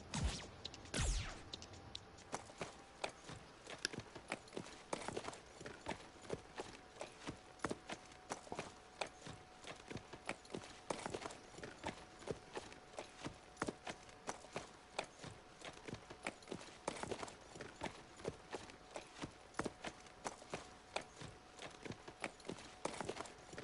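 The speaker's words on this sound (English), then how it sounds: "Let's follow that horse." Rapid, light hoof clip-clops from a horse in Street Fighter 6 tick along steadily for over twenty seconds, faint and rhythmic with occasional sharper knocks.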